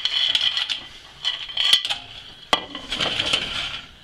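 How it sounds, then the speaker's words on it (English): Fresh cockles tipped into a hot pan of cooking juices, their shells clattering and rattling against the metal in a busy, scraping cascade with a sharp knock midway, close and fairly loud. "What you do, put your cockles in"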